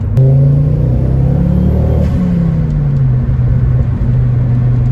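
A 2007 Ford Focus ST hatchback's engine revs loudly nearby, holding a deep throaty drone that dips in pitch partway through, with no talking.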